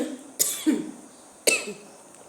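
A woman with a cold and fever coughs twice, close to the mic, each cough a sharp burst with a short throaty tail.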